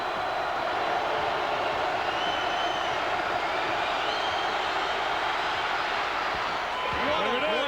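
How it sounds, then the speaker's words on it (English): Crowd noise in a packed college basketball arena during a North Carolina at Duke game, a dense, steady roar sustained across the clip, with a commentator's voice cutting in near the end. "the crowd is going to make as much noise as it can"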